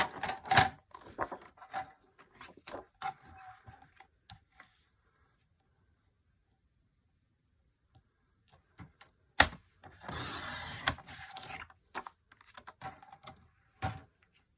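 Scissors cutting a stamp out of an envelope: close, crisp snips and paper rustles in bursts, a quiet pause, then more trimming cuts and crinkling paper.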